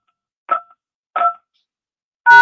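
Phone keypad tones sound on a call line as a few short, clear beeps with silence between them, and the last tone is cut off.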